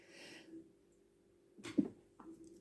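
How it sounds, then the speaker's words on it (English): A single quiet sneeze bursts out midway through a hushed stretch, with a faint breath before it and a small vocal sound just after. "Sneeze on a Sunday"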